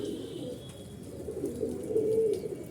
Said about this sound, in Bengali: এখানে আছে আমাদের কিছু কবুতর রেস্টে দেওয়া আছে